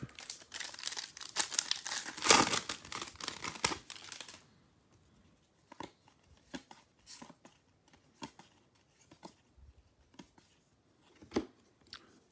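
Paper wrappers from 2021 Bowman Draft Lite trading card packs crinkle loudly and densely up close for a few seconds, then give way to sparser, softer rustles and snaps.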